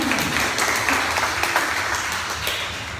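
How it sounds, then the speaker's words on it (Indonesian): A student audience applauds at a university student-body election debate, a dense, moderately loud round of clapping that swells and then gradually thins, with faint murmurs underneath. "boleh tepuk tangan dong biar gak tegang semua"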